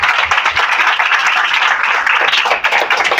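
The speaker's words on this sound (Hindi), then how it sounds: "जोरदार तालियां खुदा के जलाल के लिए।" A church congregation claps loudly and continuously, a dense close wash of hand claps with little talk.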